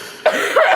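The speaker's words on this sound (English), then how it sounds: "Quit making me laugh or do the horrible cough." A single close, harsh cough bursts out abruptly after a brief quiet moment, followed by a rougher second hack, both loud and dry.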